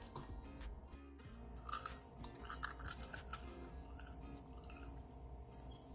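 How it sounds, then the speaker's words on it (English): Close, crisp crunching of homemade French fries being chewed, irregular bites and mastication sounds repeating throughout at a low, intimate level. "these French fries are so crunchy"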